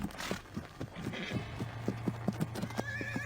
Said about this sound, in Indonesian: Dengan cepatnya, kuda itu berlari menuju jalanan.